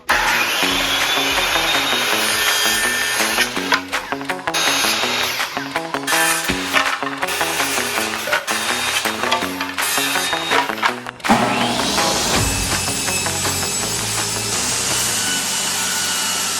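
Wood being cut to custom length for floating shelves with a power tool; a loud, steady mechanical whine with a rattling, ratchet-like chatter that shifts pitch and pushes harder partway through, no speech.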